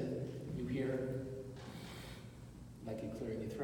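A voice imitates a harsh, rasping aortic stenosis heart murmur, a breathy whooshing rush like throat clearing, repeated twice with a short pause between.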